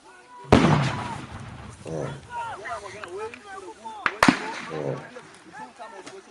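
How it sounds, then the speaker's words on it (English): Sharp gunshots crack out in a tense armed confrontation, with one loud report early and a second pair later, while people shout and talk urgently between them. "You are firing at us!"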